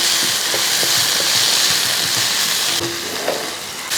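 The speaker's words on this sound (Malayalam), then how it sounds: "ആ തക്കാളി ഇട്ടതിന് ശേഷം എല്ലാം കൂടെ കൂട്ടി ഒന്ന് ഇളക്കി കൊടുക്കും" Tomatoes and onions sizzle and fry in a pan for egg curry, a steady close hiss with occasional scrapes and soft clinks as they are stirred, no talking.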